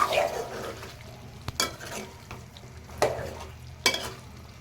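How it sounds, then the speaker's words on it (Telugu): Chicken drumstick curry is stirred in a pan, with a soft background sizzle punctuated by a few distinct scraping and clanking spatula strokes against the metal. "మొత్తం కలిసేలాగా ఇలా కలుపుకుందాము."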